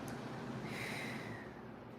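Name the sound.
person exhaling during breathing exercise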